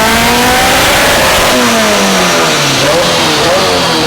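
A turbocharged K-series engine in an FRS revs hard on a dyno, loud and continuous, its pitch sweeping up through the gears with short breaks at the shifts.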